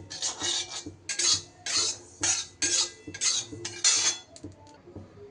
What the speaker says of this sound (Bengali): পোস্তটা আমার শুকনো খোলায় নাড়া হয়ে গেছে